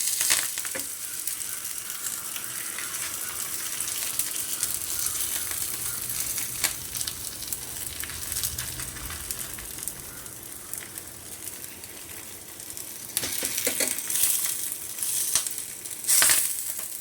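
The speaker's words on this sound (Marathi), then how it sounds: "तूप घालून घ्यायचं आहे सगळीकडे पसरून घ्यायचं आहे आपले गिरडे सोडायचे त्याच्यात" Fasting dhirde batter poured into ghee spread across a hot pan, a close, steady crackling sizzle that swells and spits more sharply toward the end, no voices.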